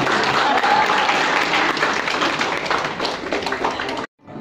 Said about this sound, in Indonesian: Bapak Ibu boleh berikan tepuk tangan yang meriah.